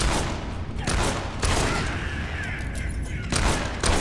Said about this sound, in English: Keep up that shooting and we'll be rid of them in no time.